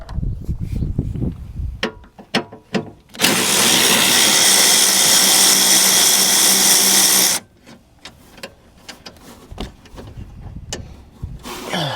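A power tool whirs steadily for about four seconds while removing the 10mm bolts holding the wiper assembly on a Toyota Highlander, with scattered clicks and metal handling sounds before and after.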